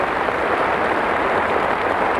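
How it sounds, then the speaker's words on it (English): Cricket crowd at a 1977 Ashes match applauding Alan Knott's century against Australia, a dense, steady wash of clapping throughout, loud and continuous with no voices standing out. "This crowd rise on their feet to applaud"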